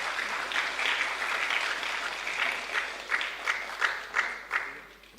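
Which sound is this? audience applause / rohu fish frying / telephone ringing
audience applause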